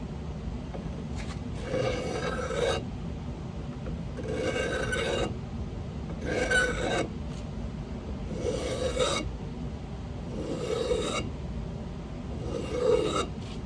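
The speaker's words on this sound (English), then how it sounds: "I'm going to remove the finish off of here, just real lightly. And then I'm just gonna sand it down" Sanding the finish off a Harbor Freight hatchet by hand: steady raspy scraping strokes, each lasting about a second, repeating in a slow even rhythm, close and fairly quiet with no voices.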